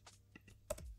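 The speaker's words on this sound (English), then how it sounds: "Let's type it." A few quick keystrokes on a computer keyboard while entering an SMS code, faint and close, with sparse irregular clicks and a slightly louder pair near the end.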